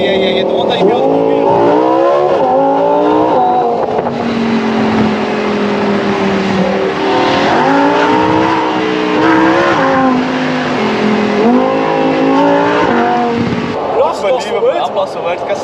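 A Lamborghini Huracan engine under way, loud and close, climbing and dropping through gears with repeated revving surges and shifts, while people talk over the roar inside the car.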